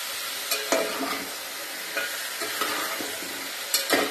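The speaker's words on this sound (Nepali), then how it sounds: "पुरा भुट्नुपर्छ, एकछिन राख्दै भुट्दै हो कलर चेन्ज हुनु दिनुपर्छ यसलाई।" Chicken sizzles steadily in a hot pan while a spatula scrapes and stirs every second or so.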